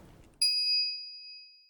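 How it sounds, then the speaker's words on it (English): A single bright electronic microwave chime from the video game Steins;Gate Elite rings out clearly and fades away slowly, with nothing else around it. "After 120 seconds pass, their microwave chimes."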